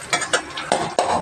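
Onion with ginger garlic paste sautés in a pan, giving a soft sizzle broken by several scraping stirs of a spoon against the metal, close and clear with no talk.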